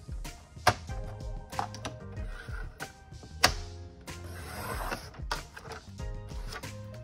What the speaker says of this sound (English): Now I'm going to use my Cricut cutter to cut it down to size.